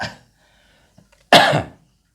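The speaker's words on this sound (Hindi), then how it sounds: "खांसी अभी भी ठीक नहीं हुआ" One sharp, close cough rings out after a brief breathy sound and a short silence, then the room goes quiet.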